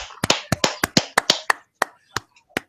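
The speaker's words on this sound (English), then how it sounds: "Golf clap. Fantastic job." A few slow, soft hand claps from one person, a sparse golf clap of about a dozen separate, fairly close smacks spaced irregularly and thinning out toward the end, with no voices.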